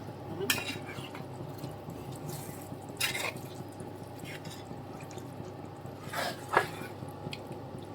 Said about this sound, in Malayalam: ഇനി നമുക്ക് ഈ ചിക്കനും നമ്മുടെ സവോളയൊക്കെ ഒന്ന് നന്നായിട്ടൊന്ന് മിക്സ് ആക്കണം